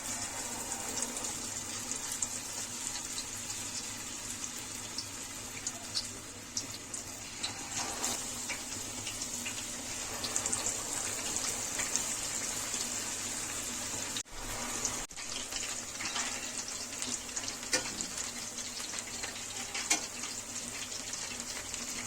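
Chicken lollipops deep-frying in hot oil give a steady, continuous sizzling hiss that holds even and close throughout, with no talking.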